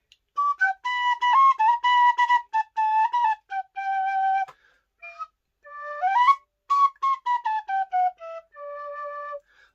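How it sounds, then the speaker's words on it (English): Tin penny whistle with six holes playing a lilting Irish folk melody, bright high-pitched notes in short phrases with brief pauses, solo and close. "it's just like a normal whistle, but made out of tin. And it makes a nice high-pitched melody sound"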